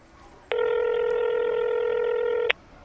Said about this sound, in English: Let me phone Patsy right now